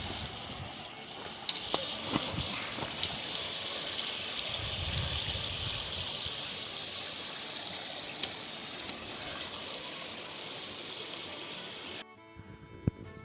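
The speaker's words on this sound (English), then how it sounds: "that's Harper's Creek right down there" Harper's Creek flows on the Appalachian Trail, a steady, faint rush of water heard from a distance below, continuous with a few small clicks, cutting off near the end.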